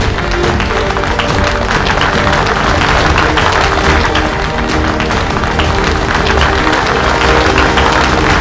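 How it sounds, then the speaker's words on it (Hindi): Loud, dense applause from a crowd in a Hindi fantasy TV drama scene, a continuous wash of clapping hands that holds steady and unbroken from start to finish. "इसी बात पे शूरवीर विवान के लिए जोरदार तालियां।"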